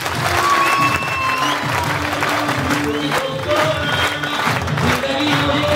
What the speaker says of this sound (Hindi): एक बार जोरदार तालियां आप सभी के लिए।